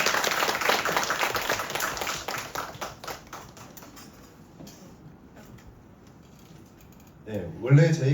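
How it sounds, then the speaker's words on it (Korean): An audience at a seminar claps to welcome a company representative to the front, a burst of many hands that thins out and fades over several seconds, followed by a voice speaking near the end. "큰 박수 한번 부탁드리겠습니다."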